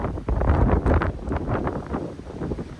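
Gusty wind buffets two tents pitched head to the wind during a tent wind test, a loud blustery roar with rustling fabric that rises and falls, close to the microphone.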